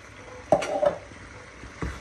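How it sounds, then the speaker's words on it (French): Chopped spinach stirred in a cooking pot, a couple of short spoon knocks and a brief wet scraping swirl, close and fairly quiet, with a final clink near the end. "Là je mélange bien."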